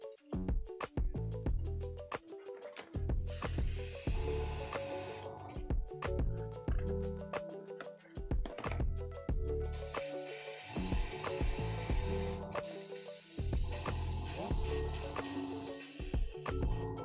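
An airbrush sprays watery brown paint onto a Turnip28 crab miniature, a soft steady airy hiss in long stretches broken by short pauses, close and quiet, set against a layer of background music.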